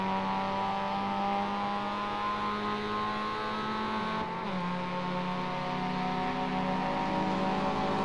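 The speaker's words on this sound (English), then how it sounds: "I hear another Mustang coming." A Ford Mustang race car in a racing video game on the Mid-Ohio chicane course, a steady engine drone that shifts pitch slightly midway as the car passes, continuous and fairly loud with no talk.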